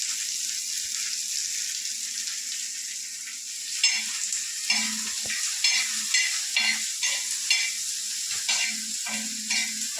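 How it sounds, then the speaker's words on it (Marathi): Chopped garlic greens sizzle and fry in hot oil, with steady frying hiss and repeated stirring scrapes in a quick irregular rhythm, close and fairly loud. "आता आपण ही जी लसूणची आपण पात कापलेली आहे ती टाकूया. याला पण भाजून घेणार."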